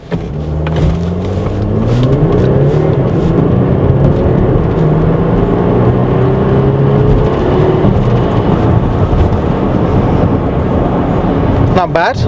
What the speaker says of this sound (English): Let's do a quick launch in the car, shall we?